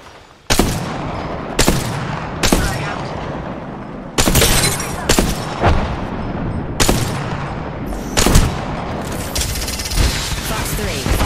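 Rapid gunfire in the shooter game Apex Legends, sharp loud bursts repeating in quick succession with echoing tails and short pauses between volleys.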